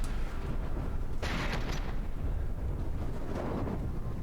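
Explosions from flak shells bursting in the vehicle-combat game From the Depths, a sudden loud burst with a bright hissing tail over steady rumbling game noise, then a softer second blast.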